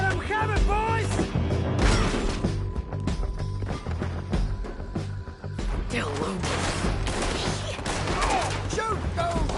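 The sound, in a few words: gunfire shootout in the video game Red Dead Redemption 2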